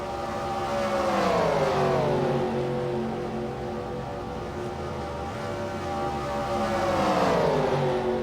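Several racing cars roar into the pits together, their engines loud and close, pitch sweeping up and down as they slow and rev in a dense overlapping drone.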